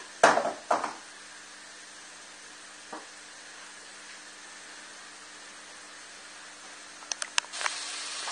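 Tofu browning in a wok for a vegan stir-fry, a steady low hiss of frying throughout, with a clatter of utensils at the start and a few sharp pops and clinks near the end, no talking.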